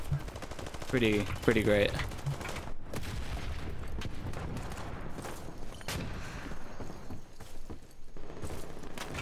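P90 submachine gun fire in the shooter game Ironsight, rapid bursts and crackling shots in a busy gameplay mix, with a voice talking briefly near the start.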